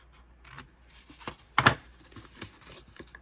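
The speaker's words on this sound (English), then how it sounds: "So I need to cut this off." Scissors snip through paper for a papercraft gift pouch, one crisp close cut standing out among faint rustling and softer handling sounds.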